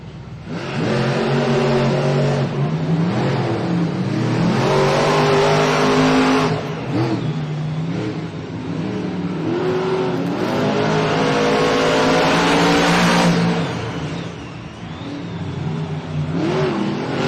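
Monster trucks revving their big engines at the start line of a Monster Jam racing final in a Stockholm arena, loud rising and falling roars with layered revs that swell, drop and surge again.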